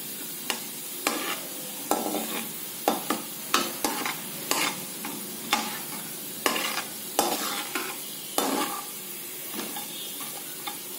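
Spices and chana dal sizzle in hot oil as they temper in a pan over a low flame for a South Indian dish, a steady close frying hiss broken by repeated scraping stirs, with no talking.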